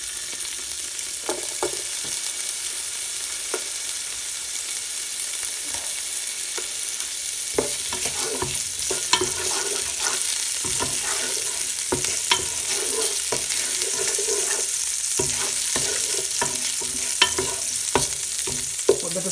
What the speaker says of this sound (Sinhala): හොඳට රම්පේ කරපිංචා බැදෙනකොට අපි ඒකට ඉඟුරු දානවා. ඊට පස්සේ සුදු ලුණු දානවා.